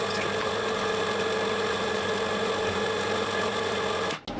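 An electric coffee grinder whirs steadily as it grinds beans into its chamber, a close, continuous motor drone that cuts off abruptly near the end.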